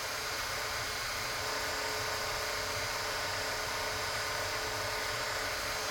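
A wood lathe spins a 3D infused blank while it is sanded at 4000 grit, giving a steady, loud broadband whir that holds unbroken throughout with no speech.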